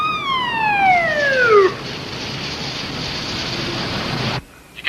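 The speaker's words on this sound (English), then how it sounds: "Bravo 101, sound your siren." A police car siren sweeps downward in a wailing tone, then gives way to a steady loud noisy rush that cuts off abruptly near the end.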